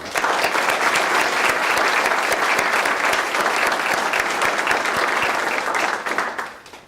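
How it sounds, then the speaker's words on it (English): A crowd applauds loudly and steadily for several seconds, the dense clapping fading out at the end. "offer a round of applause for our public servants"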